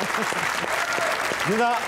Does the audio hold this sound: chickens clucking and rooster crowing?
no